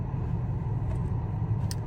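Steady low rumble of cars around an apartment complex parking area at eight in the morning, a continuous nearby traffic drone with a couple of faint brief higher sounds and no talking.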